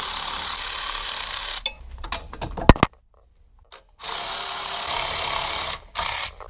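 A Snap-on ratchet works the bolts of a rear wheel bearing on a 2016 Audi A3, a quick run of close clicks set between stretches of broad steady noise.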